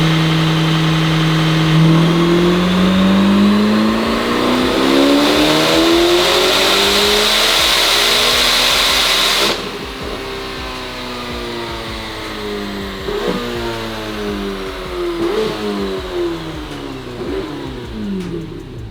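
A Corvette ZR1 fitted with high-flow catalytic converters makes a dyno power run, its engine loudly revving up through rising harmonics, then dropping off and settling into lower, quieter rev swings, with no talking.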